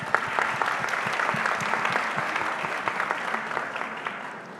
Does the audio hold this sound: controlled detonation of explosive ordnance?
no